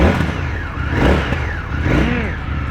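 Indian Motorcycle FTR, with an engine related to the Scout's 1133cc unit, running and revving close by, loud rising and falling engine swells in a few pulses.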